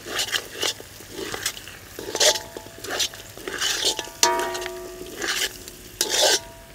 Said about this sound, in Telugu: కొత్తిమీర వేశాక ఒక 2-3 నిమిషాలు వేయించుకుంటే సరిపోతుంది.